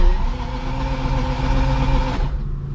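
Car engine running steadily just after starting, its fuel pump primed: a close, even mid-pitched drone with a tonal hum, cutting down abruptly near the end.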